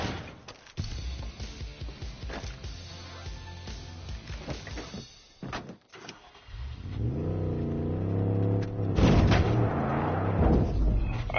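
A car driven in the Far Cry 5 map editor gives a rough engine rumble with bumps and thuds, then revs up into a rising, sustained roar toward the end.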